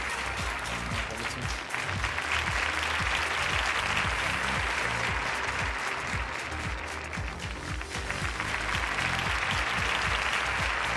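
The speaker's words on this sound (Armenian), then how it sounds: "Համեցեք, այո, ծափերով։" Sustained applause from an audience at a business-idea competition award ceremony, dense and steady clapping filling the room for the whole stretch without a break.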